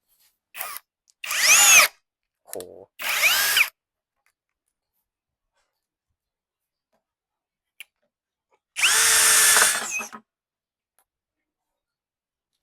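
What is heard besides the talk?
cordless screwdriver drill running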